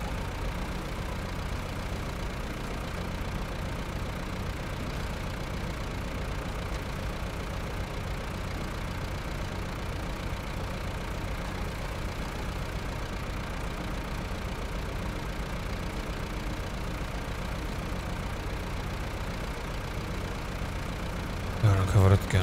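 A truck engine in the Snow Runner video game drones at a steady, mid-pitched hum throughout, with a brief louder burst at the very end; a voice talks over it.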